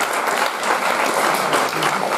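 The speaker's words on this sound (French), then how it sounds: "Vous pouvez l'applaudir" An audience applauds a young woman at a film screening and discussion, steady dense clapping filling the room throughout with no pauses.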